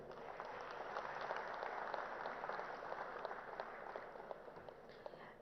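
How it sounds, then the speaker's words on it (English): Audience applause at an awards ceremony, a steady sustained wash of many hands clapping that holds evenly throughout without speech. "One round of applause, please."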